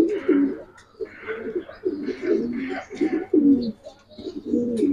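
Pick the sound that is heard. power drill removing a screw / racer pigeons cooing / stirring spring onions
racer pigeons cooing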